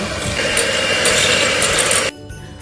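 An electric mixer beats butter with egg yolks in a loud, steady whirring grind that cuts off sharply after about two seconds, leaving a faint hum.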